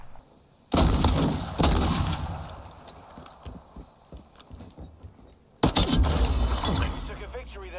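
Gunfire in the video game Modern Warfare 2 cracks out in two loud bursts, with scattered shots and game effects in between during a close-quarters fight.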